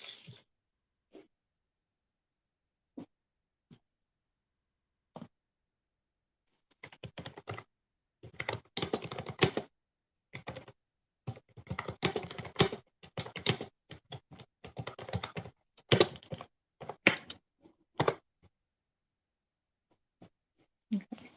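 Bursts of typing on a computer keyboard, close and fairly quiet, with scattered single key taps at first and then denser clattering runs separated by short pauses.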